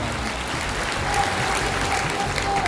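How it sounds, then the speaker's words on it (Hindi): Audience applause at a political rally in Maharashtra, a dense, steady clapping from a large crowd that fills the whole stretch at even loudness. "जोर से ताली बजाना"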